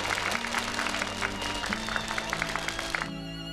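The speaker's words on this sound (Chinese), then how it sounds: "让我们为安宁的真情鼓掌。" Audience applause during a televised drama scene, a dense wash of clapping that fills the clip steadily before cutting off near the end, with a sustained musical tone running underneath.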